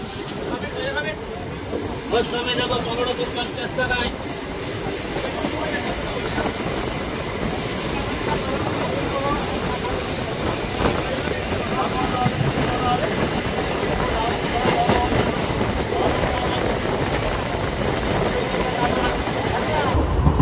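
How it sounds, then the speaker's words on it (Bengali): A memo passenger train pulls out of Dhubulia station, its wheels rumbling and clattering loudly along the rails for a sustained stretch, with faint squeals and people talking in the background. "ট্রেন ধুবুলিয়া স্টেশন ছাড়লো।"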